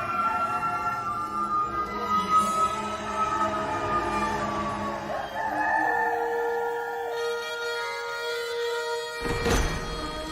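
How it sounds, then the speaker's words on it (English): A long, drawn-out rooster crow slides slowly downward in pitch, fairly loud and alone, ending with a brief sharp knock. "a rooster crowed."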